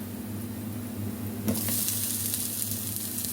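Ginger sizzles in a hot pan as it is sautéed for a crab dish, a steady frying hiss that swells louder partway through, with low kitchen hum underneath.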